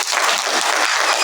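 A burst of loud, dense crowd applause, close and continuous, filling the whole short moment with no voices over it.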